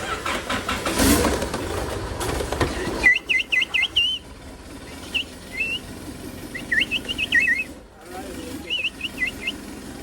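Short, high chirping bursts from a bird whistle repeat in quick clusters, imitating birdsong, over a rumbling engine and background noise.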